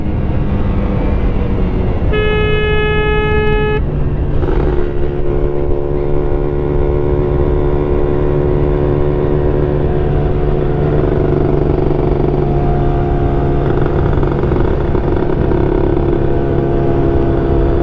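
Motorcycle fitted with a PWK 28 carburetor and a 32 reamer, ridden hard in fourth gear, holding a loud, steady engine drone throughout, with a brief horn-like tone early on and no talking.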